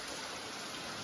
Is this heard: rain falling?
yes